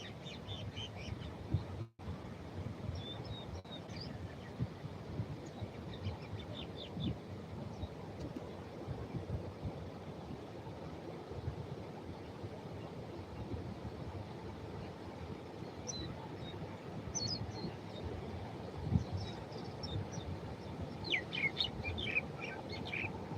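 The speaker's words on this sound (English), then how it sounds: "the birds are talking to us" Small birds chirp in short scattered bursts at a distance outdoors, over a low steady wind rumble, with no talking.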